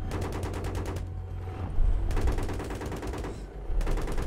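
Bursts of automatic gunfire in Battlefield 3, rapid machine-gun rattles in three loud, close volleys separated by short pauses filled with lower combat rumble.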